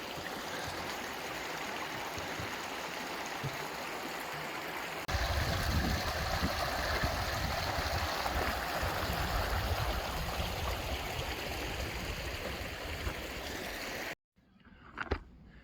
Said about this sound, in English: we made it to our first sizable river crossing with a little bridge here. Beautiful little stream.